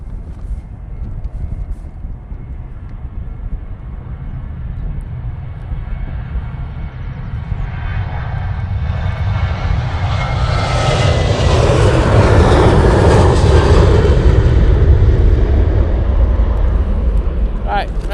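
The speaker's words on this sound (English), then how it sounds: "And an A380 on short final, tipping those wings down." An Airbus A380 jet on short final approach at Manchester Airport roars closer, its engine noise swelling steadily from a moderate rumble to a loud, broad sustained roar with wind buffeting the microphone.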